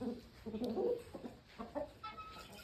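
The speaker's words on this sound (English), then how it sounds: "we got Mr. Loudmouth over there with all of our hens" Hens cluck inside a chicken coop built into a barn, with a rooster nearby: several short, irregular clucks and murmurs, fairly close but soft.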